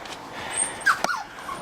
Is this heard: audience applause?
no